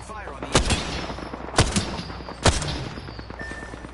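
Gunfire in the Apex Legends video game, three loud close bursts of shots spaced about a second apart over a busy background of fainter battle noise.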